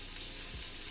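Red snapper frying in a pan, a steady close sizzle and hiss of hot oil with no voices, lasting about a second.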